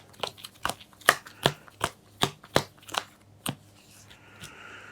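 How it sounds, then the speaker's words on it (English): A deck of game cards is shuffled by hand during a tabletop card game, a run of about a dozen crisp, close riffling slaps at an uneven pace, ending in a quieter rustle. "So I'll shuffle all my cards and draw 5 new ones."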